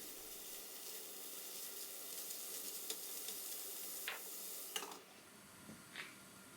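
Onions fry in a pan while being stirred, a quiet steady sizzle broken by a few sharp spatula scrapes and taps, close but low in level.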